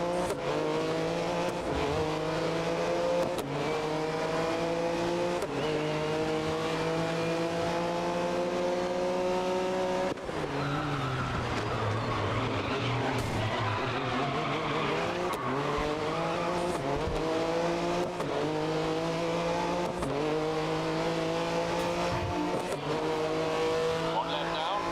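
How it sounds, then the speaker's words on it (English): Race car engine in the video game GRID (2019) revving continuously with stepped pitch jumps as gears shift up and down, loud and steady throughout, with no talking. "I like the way the shift sounds for this car"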